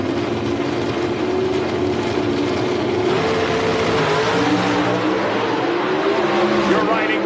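Two Mopar drag race cars run side by side, heard from on board as a loud, continuous engine roar whose pitch climbs steadily under acceleration.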